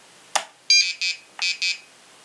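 The location buzzer on an XGlow Pro glow ignitor sounds in short, sharp electronic beeps: a click, then four separate bursts, close and clear against near silence.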